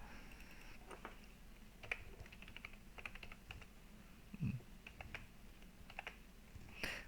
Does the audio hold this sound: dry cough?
no